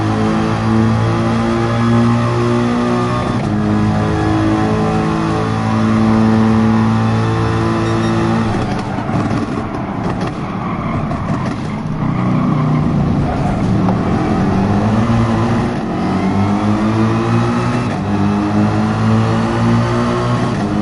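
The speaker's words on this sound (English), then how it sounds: "It's a drag race." Cars accelerating in a drag race, a loud sustained engine roar with rising revs and changing pitch that continues steadily for about twenty seconds.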